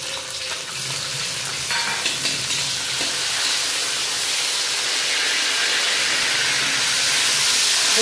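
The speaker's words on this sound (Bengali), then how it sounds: "এই পাতাটাকে সুন্দর করে ভেজে নেবো।" Tender neem leaves with eggplant fry in hot oil, a loud, continuous close sizzle and hiss that builds steadily, with faint stirring and no talking.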